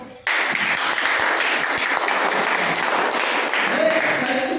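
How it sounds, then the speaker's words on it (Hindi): Loud, sustained applause from a large seminar audience, with dense continuous clapping that begins abruptly and holds steady for several seconds. "तो एक बार जोरदार तालियां।"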